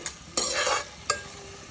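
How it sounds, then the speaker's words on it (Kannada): Mint leaves fry in a pan over a low flame for mushroom sambar, giving a soft sizzle, with a couple of quick, close stirring scrapes. "ಪುದೀನ ಹಾಕ್ಕೊಂಡು ಸ್ಮಾಲ್ ಫ್ಲೇಮಲ್ಲೇ ಇಟ್ಕೊಂಡು ಫ್ರೈ ಮಾಡ್ಕೊಳ್ಳಿ"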